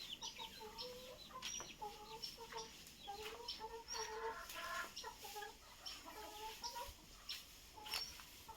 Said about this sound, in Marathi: कोंबडी आहेत